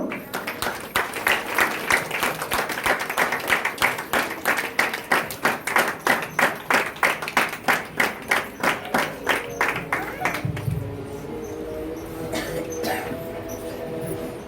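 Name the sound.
audience clapping in church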